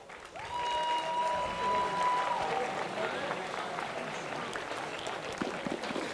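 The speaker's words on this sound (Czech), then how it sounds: "velký potlesk" Spectators at a football legends match between SK Líšeň and SK Slavia Praha applaud steadily, with a whistle-like tone rising briefly near the start and a voice heard over the clapping.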